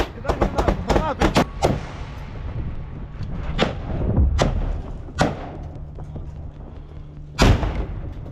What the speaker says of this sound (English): The Ukrainians threw a grenade inside, and after the explosion, they saw that one Russian soldier had been neutralized